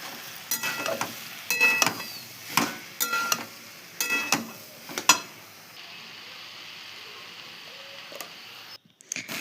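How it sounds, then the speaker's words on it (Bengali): Ginger, cumin and dried chili paste is stirred and fried in a pan, with several sharp metallic scrapes and clinks over a steady background hiss, which continues alone toward the end. "এটাকে সুন্দর করে নেড়ে চেড়ে ভালো করে কষিয়ে নেব।"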